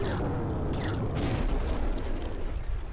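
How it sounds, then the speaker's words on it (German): A deep booming explosion rumbles with crackling bursts, a loud, sustained blast from the video game Bulb Boy. "Bäm, voll explodiert."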